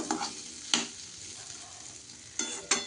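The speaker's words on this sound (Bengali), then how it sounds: "এই যে আমি পাঁচফোড়ন দিয়ে আলু ভাজা বসিয়েছি" Small potatoes frying in oil with panch phoron five-spice, a soft steady sizzle broken by a few sharp clinks and scrapes of stirring in the pan, with no talking.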